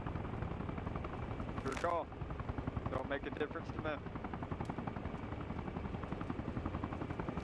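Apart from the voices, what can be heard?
helicopters flying in video game Arma Reforger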